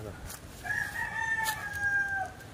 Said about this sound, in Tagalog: So may manok na.